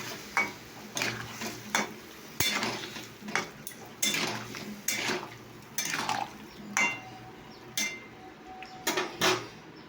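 Cumin, chilli and water being stirred in a pan, a spoon clinking and scraping against the metal in irregular bursts with soft liquid swishes in between, close and alone.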